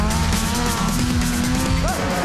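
A Drakkar quad bike with a 600cc snowmobile engine roars loudly and steadily up close, its rising engine note joined by tire squeal and skidding near the end.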